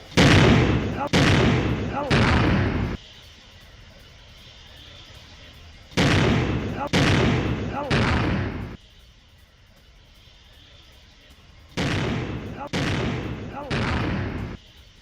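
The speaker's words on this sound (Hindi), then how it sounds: "खड़ी हुई एम्बुलेंस में रहस्यमयी विस्फोट से हड़कंप मच गया।" Three groups of three heavy booming blasts from a parked ambulance on a street in Bangladesh strike in quick succession, each group separated by several seconds of low rumble, loud and with no voices.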